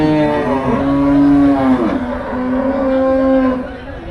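Cattle at a busy cattle market in Melapalayam, a loud, close, drawn-out moo with a second lowing call following, sustained and tonal over faint crowd noise.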